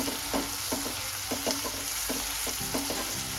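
Chopped onion and green chillies fry in a pan for a Kolhapuri golma dish, with a steady sizzle broken by repeated short scraping stirs at a regular rhythm, close and moderately loud, with no talking.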